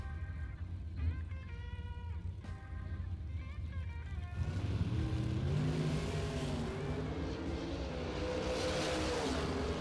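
A Chevy Nova and a red Camaro at a drag race rev their engines from a distance, rising into a loud sustained roar with wavering pitch, while an announcer talks over the start.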